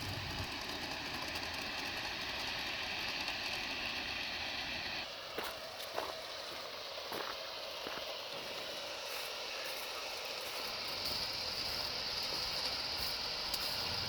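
Two G scale model train locomotives running together on slick outdoor rails, a steady mechanical whirring and clicking hum that continues throughout, with a brief shift in tone partway through.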